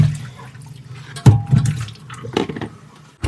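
Water splashes and runs as stingray fish is rinsed, with short irregular sloshing bursts and dribbles close by in a kitchen, no talking.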